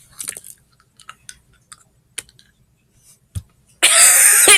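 Crunchy chewing of a hard treat, a few sparse bites and crunches near the mic with quiet gaps between, ending in a loud burst of broadband noise.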